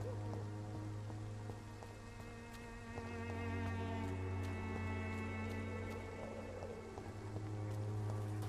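Steady rain patters and hisses on a surface throughout, with a low continuous rumble underneath and no voices, in the video game Vampyr.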